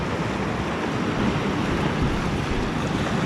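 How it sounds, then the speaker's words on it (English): Sea waves crash against the shore of a secluded cove on Favignana's north coast in Sicily, a loud, continuous roar of surf and wind with no talking. "listen to the waves crashing against the shore"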